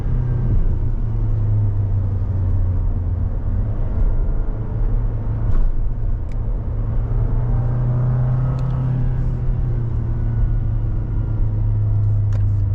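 2022 Toyota Tacoma pickup rounding a turn, its engine and road rumble a steady, loud low drone heard from inside the cab, with no talk.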